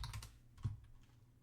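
A short burst of keystrokes on a computer keyboard, a few quick close clicks followed by a softer tap, faint and alone with no voices.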